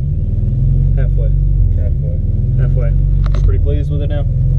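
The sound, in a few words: Honda race car engine idling high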